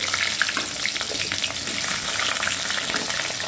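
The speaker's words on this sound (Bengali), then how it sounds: "পরিমাণ মতো সর্ষের তেল দিয়েছি, 5 ফোড়ন, 2 শুকনো লঙ্কা আর তেজপাতা ফোড়ন দেব।" Spices, dried red chillies, bay leaf and potatoes fry in mustard oil with a dense, continuous sizzle and crackle that stays loud and even throughout, with no talking.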